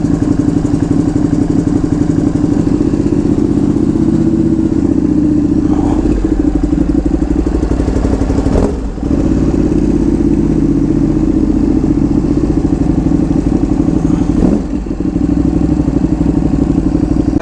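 A motorcycle being ridden gives a loud, steady mid-pitched engine drone with clattering and wind rumble, and the engine note dips briefly a couple of times.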